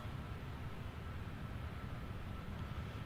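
Rolls-Royce engines on a Boeing 777 in the X-Plane 12 flight simulator, a steady broadband roar that stays constant and loud throughout without pauses.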